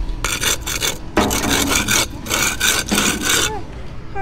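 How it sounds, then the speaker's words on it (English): A thick copper bar rubbed hard on concrete, producing loud, close, gritty rasping strokes in several bursts with brief pauses between them, with no talk over the scraping. "I'm going to rub this on the concrete."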